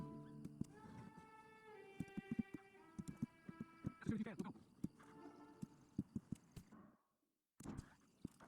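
Horse hooves clip-clop in the video game Red Dead Online. Distinct sharp hoofbeats fall at an uneven walking pace over sustained musical tones, then a brief silence and a few more steps.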